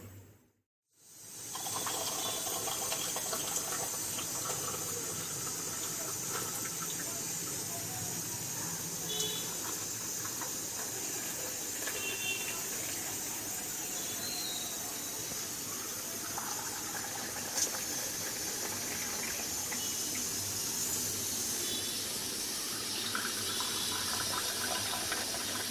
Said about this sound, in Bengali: এই কুকারটাতে এখন আলু সেদ্ধ করছি